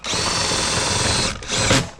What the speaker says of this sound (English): I've got an extension in an electric drill